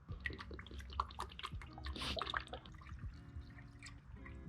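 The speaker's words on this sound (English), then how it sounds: "And now I'm gonna be adding my antifreeze again, the 50/50." Antifreeze coolant, a 50/50 mix, poured from a cut-down jug into a BMW F30 cooling system, a faint steady trickle with dripping and small splashes close by.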